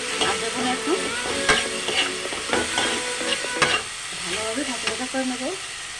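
Potatoes fry in oil in a pan while being stirred, with a constant sizzle broken by sharp scraping knocks of the spoon against the pan and a few faint voice-like tones in the background.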